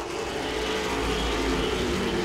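Late model race cars roar around Langley Speedway in a continuous, loud engine drone that swells slightly as the pack passes, with no speech.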